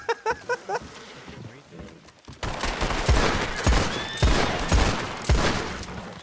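Rapid bursts of gunfire crack out in clusters, loud and sharp, with a few isolated shots first and then heavier repeated volleys.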